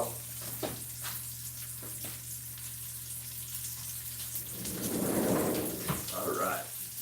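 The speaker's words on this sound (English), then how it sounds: "it's kind of not making that real loud frying sound" A hen of the woods mushroom omelet frying gently in a pan gives a quiet sizzle, swelling briefly into a louder burst of crackle toward the end, with faint background noise.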